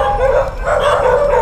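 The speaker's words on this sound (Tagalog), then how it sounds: "doon palang kakahol yung aso" A dog barking at night on Poro, Camotes Island in Cebu, giving continuous loud yips and barks up close.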